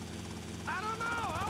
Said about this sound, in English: Just sit here in the helicopter